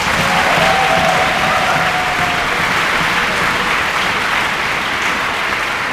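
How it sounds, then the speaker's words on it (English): Sustained applause from a debate audience at a world universities debating championship final, a dense, steady wash of clapping that holds at the same loudness throughout with no voices over it. "invite the members to cross the House and give them a round of applause"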